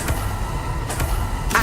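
A Confringo fire blast spell fires in Hogwarts Legacy, loud whooshing bursts with a few sharp cracks over a dense, roaring game soundscape.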